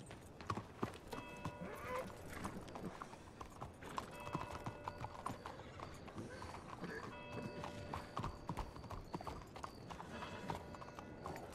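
Horse hooves clip-clop at a steady gallop in a video game, joined by an occasional whinny and game sound effects, running continuously at moderate level with no talk.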